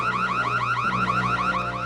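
A loud electronic alarm wails on its own in rapid, repeating rising-and-falling sweeps, with a steady, unbroken tone throughout.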